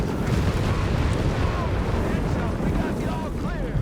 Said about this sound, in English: We got more explosion. I think that might have been mine being set off there by the howitzer.